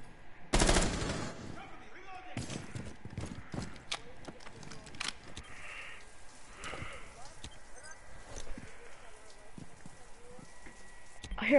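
Bursts of automatic weapon fire in a tactical shooter game match, a sharp loud volley near the start followed by scattered rapid shots and clattering across the round, with players talking over the action.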